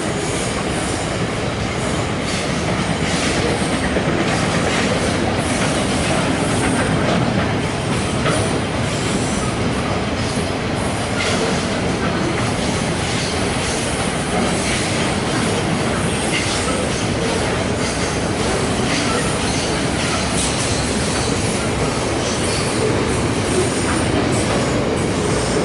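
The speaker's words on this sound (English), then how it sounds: "That's a goods train." Continuous heavy roar of a long goods train passing close on the line, wagons rumbling and wheels clacking and squealing steadily throughout, with no voices.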